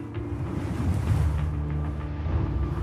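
Steady churning rush of ocean waves under a storm surge, a broad low roar swelling slightly in the middle, continuous and without voices.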